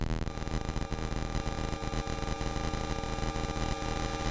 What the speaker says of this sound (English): changes that crackle, which they call particle noise, up towards a more traditional white noise